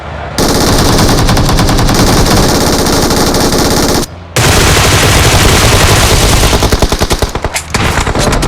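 Loud, close automatic gunfire in a battle royale video game rattles in long sustained bursts, broken by a brief pause, then continues and grows choppier near the end.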